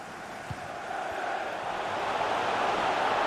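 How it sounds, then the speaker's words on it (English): A stadium crowd in the FIFA 23 football video game, a broad, continuous roar that swells gradually and stays fairly distant throughout. "Being egged on by the crowd."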